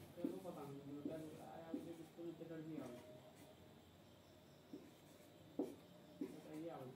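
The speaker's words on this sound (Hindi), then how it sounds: "हम संख्या लिखते हैं" Hand-writing numbers, likely chalk or marker on a board during a maths lesson, gives faint scratchy strokes under a man's steady Hindi-language teaching voice.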